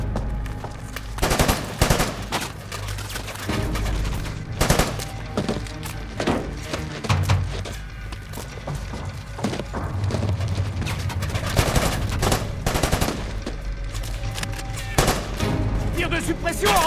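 Machine gun suppressive fire in a war action film set in Iraq with American soldiers, dense bursts of rapid shots and sharp impacts, loud and close, with shouting voices mixed in.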